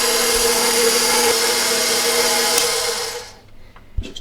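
A Cuisinart ICE-30R ice cream maker churns its ingredients with a steady, loud motor whir and hum that holds for about three seconds, then winds down and stops, leaving a few faint knocks.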